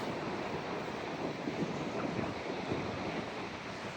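Sea waves wash continuously onto the shore, a dense, steady roar of surf with some wind buffeting the microphone, close and without any talk.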